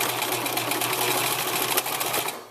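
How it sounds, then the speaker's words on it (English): Sewing machine stitching across the corner of a fabric treat bag: a close, steady, rapid mechanical whirring that runs continuously, then slows and stops at the end. "I'm going to line up the point of my corner and just sew across."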